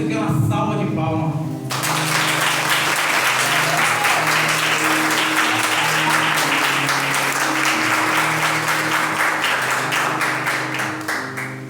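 Congregation applause during a church sermon, a sustained wash of many hands clapping that swells after a brief opening of music and voice and holds loud for about ten seconds, with musical tones underneath.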